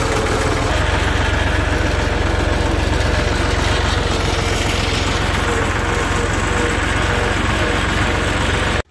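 A tractor engine runs loud and close with a steady low idling throb and heavy vibration, alone without talk, then cuts off abruptly at the very end.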